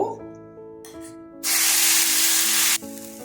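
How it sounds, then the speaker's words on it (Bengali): Spice paste dropped into hot refined oil for a pea dhoka dish: a quiet start, then a sudden loud hissing sizzle lasting over a second before cutting back to a low simmer, with a voice faintly around it. "তেলটা গরম হয়ে গেছে আমি এখন পেস্টটা ছেড়ে দেব"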